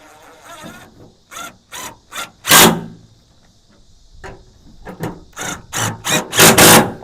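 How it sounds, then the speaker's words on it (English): A bolt being tightened down on the tailgate of a 2004 Chevy Silverado, heard as a series of loud, close, quick ratcheting or power-tool bursts with short pauses between them and no talking. "line it up to that and tighten it down"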